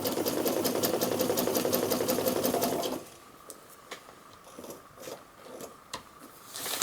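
A sewing machine stitches a rolled hem on a utility bag, running in a loud, steady mechanical whir for about three seconds, then stops, leaving faint handling clicks and rustles.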